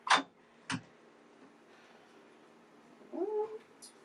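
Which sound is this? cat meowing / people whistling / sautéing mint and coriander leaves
cat meowing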